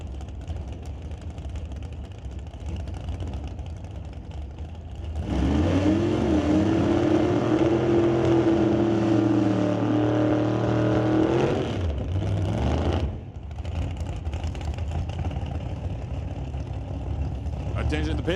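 Drag racing car at Mission Raceway Park during a qualifying run, a loud engine roar rising and sweeping for several seconds before cutting off, with an announcer talking before and after.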